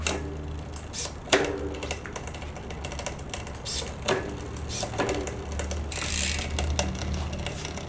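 A Wheel Top EDS XO wireless electronic derailleur on a mountain bike shifts, giving a few short mechanical whirs and clicks spaced a couple of seconds apart, close and fairly quiet, with no voices.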